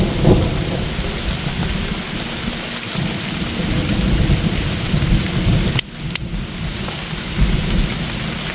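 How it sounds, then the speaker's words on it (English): Heavy rain pattering steadily on a dyed surplus ICS tent at a campsite, a loud dense hiss of drops with low distant thunder rumbling beneath, plus a couple of sharper taps near the middle. "Got a nice pitter patter of rain come through, a little bit of thunder in the distance"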